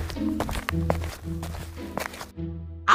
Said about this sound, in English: Oh no, I heard footsteps.